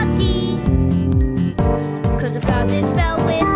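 Cartoon bell from a Thomas and Friends episode, a bright tinkling ding that rings again and again over a busy, loud musical score, with no speech.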